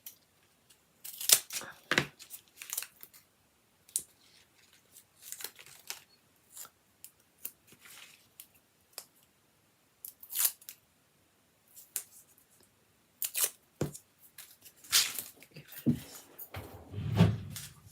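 Snipping and cutting through a foam pad at a crafting table, heard as a series of short, sharp close-up cuts and rustles separated by quiet gaps, with a soft thud near the end.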